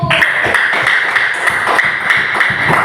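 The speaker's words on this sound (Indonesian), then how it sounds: "Ya, tepuk tangan buat kelompok 1" A class of students claps for a group during a classroom lesson, a brisk run of close, regular hand claps and taps repeating steadily throughout.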